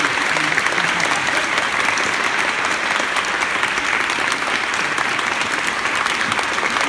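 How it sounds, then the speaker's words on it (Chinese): Sustained, dense applause from a theatre audience thanking the cast of Thomas Jolly's Richard III at a post-show talk during the Taiwan International Festival of Arts, loud and steady throughout, with no voices breaking through. "那我们就再次掌声谢谢在场的演员"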